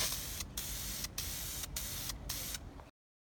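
Black spray paint hisses steadily onto Jeep Wrangler hood vents in four long bursts, each broken by brief pauses, ending abruptly in silence.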